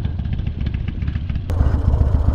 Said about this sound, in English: So this is my first time riding the Harley Dyna.